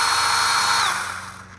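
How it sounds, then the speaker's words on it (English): A Seesii battery-powered pole chainsaw with a metal pole running close by, a loud high-pitched electric whine that holds steady, then dips in pitch and fades as it winds down. "attach battery to it, and you have a chainsaw"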